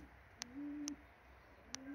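Budapest racing pigeons cooing in a loft, soft drawn-out low coos repeating twice over faint sharp clicks, quiet with no voices.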